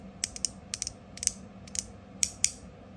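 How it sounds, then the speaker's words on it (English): A strong magnetic fidget toy snaps shut again and again, giving about a dozen sharp, bright clicks in uneven pairs and singles against a quiet background. "Really, really strong magnet. It's really snappy."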